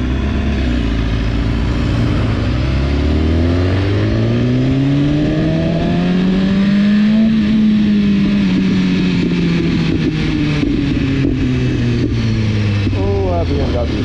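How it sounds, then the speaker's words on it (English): A BMW motorcycle engine revs up and back down in a loud, close sweep, with crackling exhaust pops toward the end. "Oh, that BMW pop, baby."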